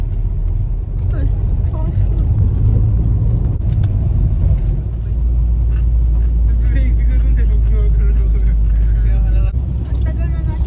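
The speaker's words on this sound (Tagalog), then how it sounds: "Traffic daming sasakyan." Heavy, slow-moving traffic on the SLEX expressway heard from inside a vehicle: a constant deep engine and road rumble, with people talking over it.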